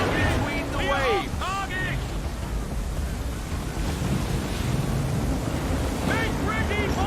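Stormy ocean waves surge and crash with gusting wind in Assassin's Creed III, a steady roaring wash of surf around a ship, with voices calling out over it.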